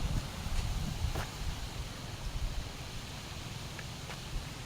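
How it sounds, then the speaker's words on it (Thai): Strong wind gusting outdoors in a rural area with cattle as a storm approaches, a steady broad roar buffeting the microphone with low rumbling throughout and faint rustling. "ลมแรงมากครับ"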